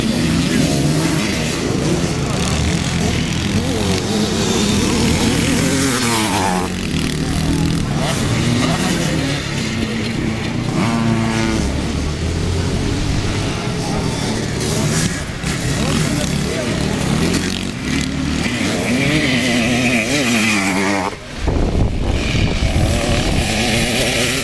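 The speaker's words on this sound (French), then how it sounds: "Numéro 27 avec une Honda CR, série de Cédric Dumontier." Honda CR motocross motorcycle engine at a race track, a continuous loud droning roar with shifting revs, under a public-address announcer's voice.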